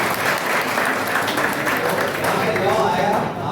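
Steady, loud applause from an audience at an NSS camp session, continuous clapping filling the room with faint voices mixed in.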